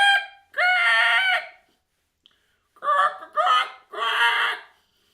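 A person's voice imitates a rooster crowing with a long strained call followed by several shorter broken crows, loud and close with brief pauses between.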